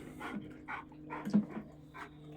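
A dog pants in quick, regular bursts close by, soft and steady with a faint whimper-like tone among the breaths.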